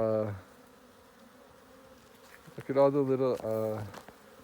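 Honeybees buzz around a feeder hive, a brief close drone at first, then a louder, wavering buzz swelling for over a second before fading.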